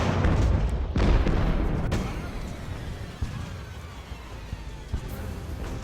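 Cannon fire in the naval-era battle game Ultimate Admiral: Age of Sail: heavy booms land close together at the start and then fade into a rumbling, crackling battle din with scattered sharper pops.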